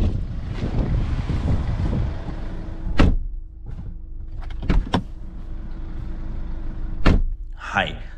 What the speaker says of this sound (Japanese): ドア閉めた音を聞いてみましょう。